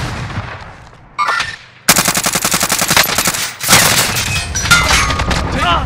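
Automatic weapons rattle in Call of Duty Warzone on Rebirth Island, a sharp opening shot followed by sustained, rapid machine-gun bursts, loud and close, with brief pauses between strings of fire.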